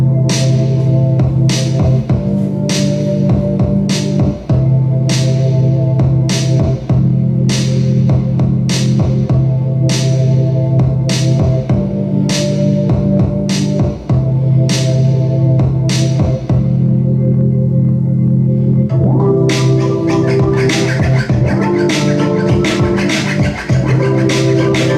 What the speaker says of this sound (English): here's my second keyboard track